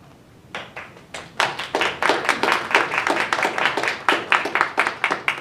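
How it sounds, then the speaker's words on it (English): Applause breaks out at a public library board of trustees meeting: a few claps at first, then steady clapping from a roomful of people that continues to the end. "We do ask that you hold applause, though, please"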